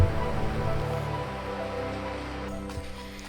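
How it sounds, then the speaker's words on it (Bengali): Monsoon rain falls steadily in a Bandarban hill forest, making a continuous broadband hiss over a low droning hum that eases slightly after the first second. "বৃষ্টি শুরু হয়েছে"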